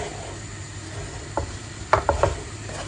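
Bitter gourd, onion, chilli and potato are stirred with oil and turmeric in a pan, giving a few short scraping and clattering knocks after a quiet start.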